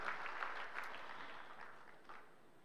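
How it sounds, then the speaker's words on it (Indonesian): A church congregation claps during a Sunday sermon, a quiet, fairly distant wash of applause that swells briefly and then thins out over a few seconds. "Beri tepuk tangan sekali lagi buat Tuhan kita Yesus Kristus."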